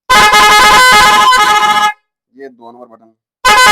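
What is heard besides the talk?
car horn from a four-tone horn kit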